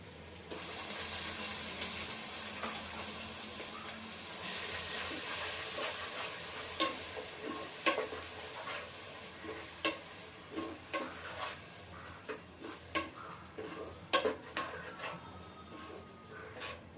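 Onion, garlic and ginger paste sautés in a pan with a steady hiss, and from about midway, sharp scrapes and taps of a spatula stirring it close by, with no voices.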